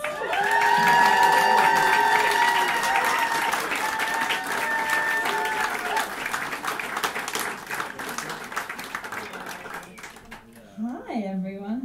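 A comedy club crowd applauds and cheers loudly as a stand-up comic is welcomed to the stage at a first-ever gig, a dense wash of clapping and whoops that thins toward the end, where a voice begins speaking.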